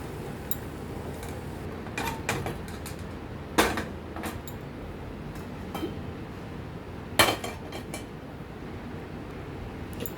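A metal wok, or kadai, is set onto a kitchen stove, giving two loud ringing clanks and several lighter knocks and clinks against a quiet, steady background hum.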